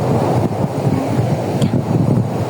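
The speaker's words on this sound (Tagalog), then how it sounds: "Sarap ng simoy ang hangin dito guys." Steady seaside breeze buffets the microphone in a continuous low rumbling roar, with a faint wash of surf behind it and no talking.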